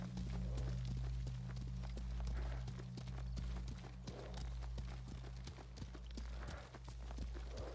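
Horse hooves clip-clop in a steady galloping rhythm in Ghost of Tsushima, close and continuous over a low droning game soundtrack, with no talking.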